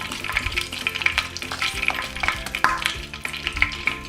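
Beaten egg omelet mixture fries on a non-stick tawa over low flame, a close, crackling sizzle with a rhythmic run of light scraping taps, and no voices.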